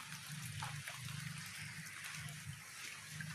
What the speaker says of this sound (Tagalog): Maulan kasi ngayon eh.